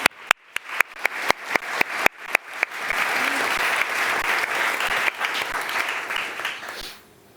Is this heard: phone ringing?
no